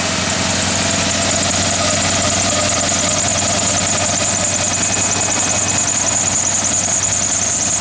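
A 1977 Ford Bronco's engine idles steadily and loudly up close, a continuous mid-pitched rumble with a slight knocking texture and no voices over it.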